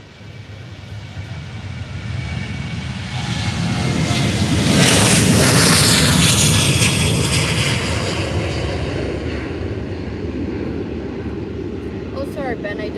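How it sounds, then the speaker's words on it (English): A Boeing 737 airliner taking off at Faro Airport, its jet roar swelling to a broad peak and then slowly fading into distant rumble. "So here goes the 737."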